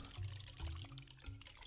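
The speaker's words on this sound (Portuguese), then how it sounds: "Barulhinho da água é mó legal" Water sloshing and trickling around a small boat in the game Cube World, a soft continuous liquid wash with gentle low swells, faint and close, no talking.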